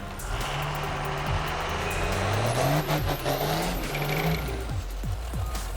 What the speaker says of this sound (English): Not an excellent burnout, but I guess he's going with that.